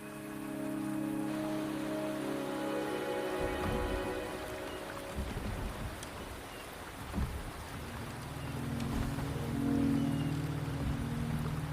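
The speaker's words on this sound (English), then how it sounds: "The rain is subsiding, and the sky will soon clear." Steady rain falls in the video game Wuthering Waves, a continuous wash of patter with low rumbling swells beneath and tonal game music layered in, fairly loud throughout with no talk.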